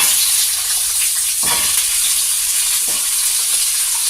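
Potato and pumpkin pieces sizzling loudly in a pan with black cumin seeds, a constant close frying hiss broken by two short stirring scrapes, no voices.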